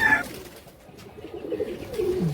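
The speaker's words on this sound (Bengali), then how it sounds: "এটা কবুতরটা নতুন ধরা কবুতর।" A newly caught Rajshahi local Giribaj pigeon gives a brief low coo, close by and fairly loud, with quiet room noise and faint voices in the background.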